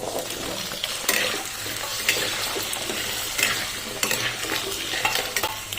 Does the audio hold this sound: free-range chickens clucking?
no